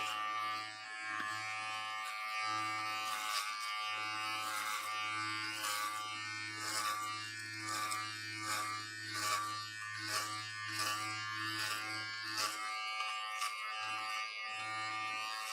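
Electric hair clippers buzz steadily and close by, with a constant low hum broken by a few short pauses as the blade starts and stops.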